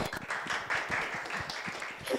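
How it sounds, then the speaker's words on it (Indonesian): An audience at an embassy short-film awards ceremony in Ankara gives a brief burst of clapping, fairly close and fading quickly. "kita berikan tepuk tangan sekali lagi untuk PPI Ankara"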